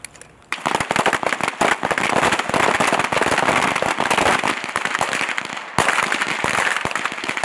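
Rapid small arms gunfire at a US Army pistol shooting competition, loud sharp reports fired in dense overlapping bursts from multiple shooters, continuing almost without pause throughout.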